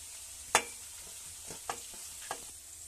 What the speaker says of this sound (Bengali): এবার ভেজে রাখা ক্যাবেজ, গাজর আর এগুলো দিয়ে দিচ্ছি।